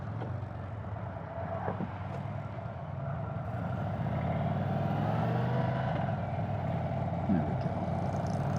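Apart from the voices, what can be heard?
2023 Indian Sport Chief 116 motorcycle engine accelerating in sport mode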